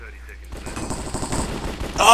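Rapid gunfire from the Minecraft Cops and Crims mini-game, a burst of quick repeated shots that crackle up close for about a second and a half, with a voice talking over it.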